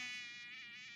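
Mosquito buzzing in an anime horror episode, a steady, high, whining drone held close and loud for about a second before it cuts off.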